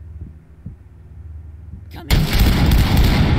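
A shotgun fires in the tactical shooter video game Ready or Not, one sudden, loud, booming blast that cuts in after a quiet, low, throbbing lead-in and leaves a dense, rumbling tail.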